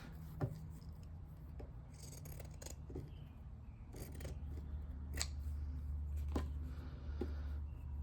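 Scissors cut through fabric washi tape in a series of sharp, close snips spaced unevenly over a soft rubbing and handling noise.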